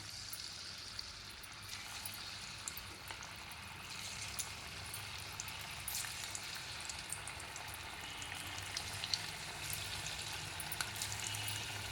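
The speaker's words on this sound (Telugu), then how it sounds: "నూనె కాగిందండి ఇలా వేసేసుకుందాం" Raw banana pakodas fry in hot oil with a soft, continuous bubbling sizzle and small crackles and pops. The sound stays fairly quiet and unchanged for the full twelve seconds, and no one speaks.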